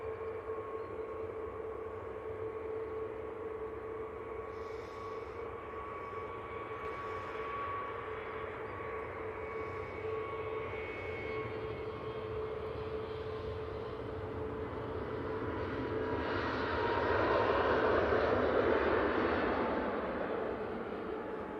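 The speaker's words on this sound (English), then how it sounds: "this KLM A321neo is going back to Amsterdam after its night stop" KLM Airbus A321neo airliner at Manchester Airport, a distant jet rumble with steady engine tones that slowly swells louder near the end, with faint background chatter.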